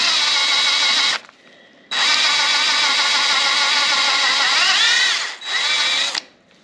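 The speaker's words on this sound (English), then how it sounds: "We're just going to drill those little threads out" A power drill whirs loudly in three bursts, briefly pausing between them, its pitch sagging and rising as the bit drills out stripped threads in engine metal.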